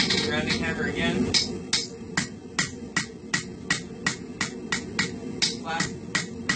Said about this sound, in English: Rounding hammer again.